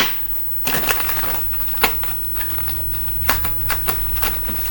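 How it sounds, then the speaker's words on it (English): Tarot cards being shuffled up close, a steady riffling and crackling with several sharper snaps, no voices. "Why don't the cards want to shuffle?"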